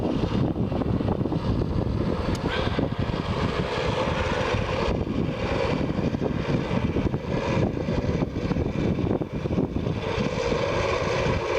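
A model B-17 aircraft taxis back to the ramp in gusty wind, its small engines giving a continuous loud buzzing drone mixed with rough wind rumble on the microphone.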